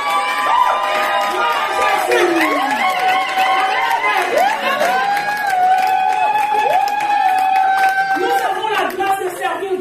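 A church congregation cheers and acclaims God with loud, overlapping shouts, ululating cries and some clapping, a lively crowd roar that lasts throughout.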